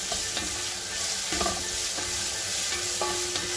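Garlic and ginger paste frying in oil with browned onions for Bannu beef pulao, a steady sizzle with a spoon stirring and scraping the pot at intervals.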